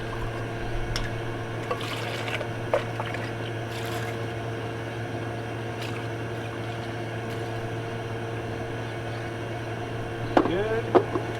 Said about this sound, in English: Wash out the blender here.